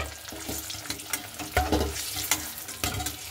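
Eggs frying and being stirred in a pan, a steady close sizzle with spatula scrapes and clicks, no talking.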